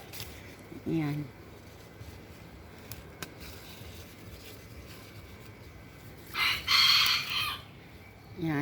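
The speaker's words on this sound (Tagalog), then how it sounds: "Yan, di ba maingay yung manok?" Chickens inside an abandoned property cluck, with a rooster's crow rising loudly near the end; the fowl sounds stand out in brief bursts over a quiet background.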